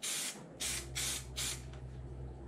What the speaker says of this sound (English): So hit your spray glue, making sure again I'm just covering the area